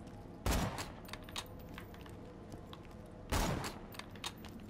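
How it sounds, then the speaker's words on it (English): Borderlands 2 gunfire sounds in two sharp bursts about three seconds apart, with faint clicks and game ambience between them. "Where is that shooting at?"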